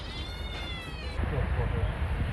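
Kitten meowing from inside a car's engine compartment, a single thin, high, wavering meow in the first second, followed by louder muffled rustling and voices close by.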